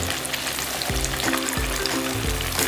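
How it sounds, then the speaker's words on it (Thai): Whole tilapia fry in hot oil with a continuous, crackling sizzle close by. A few low bubbling pulses recur every second or so underneath. "เอาทอดปลาถึงหมดเลยเนาะ สองตัวเนาะ"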